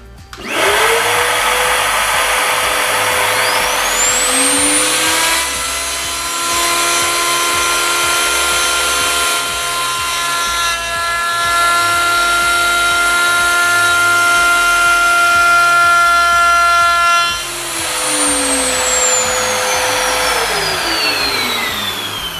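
A router cuts a scribing pass in wood on an SIP 01583 dovetail jig: a loud, high whine spins up, holds steady with shifts in pitch as it bites, then winds down, starting again near the end.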